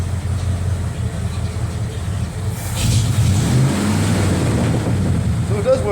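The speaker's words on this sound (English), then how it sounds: "Obviously, a truck running." A truck engine with a newly installed tachometer runs at a rough, steady idle, then picks up in revs and volume near the three-second mark and holds there, close and loud, with no talking.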